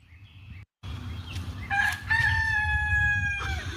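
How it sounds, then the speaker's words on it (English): Backyard chickens cluck low and steadily while a rooster lets out a loud, close crow that holds and trails off, all without any talk over it. "Those are my chickens."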